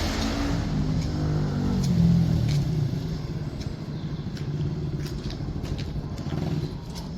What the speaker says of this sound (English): Oh, car coming.